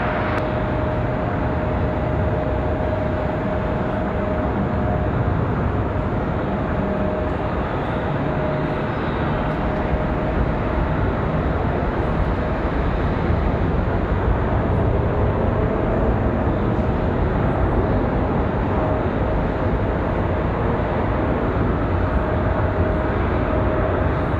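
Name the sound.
airplane taking off from runway 5 right at Raleigh-Durham airport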